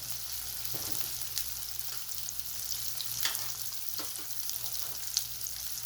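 Whole cumin seeds sizzling in hot oil with garlic for a dal palak tadka, a steady close frying hiss with occasional sharp pops and light stirring scrapes.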